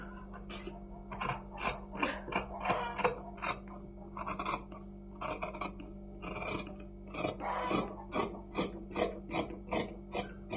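Scissors cut blouse fabric into a round shape, with a series of close, rhythmic snipping and rasping strokes and brief pauses between bursts, over a low steady hum.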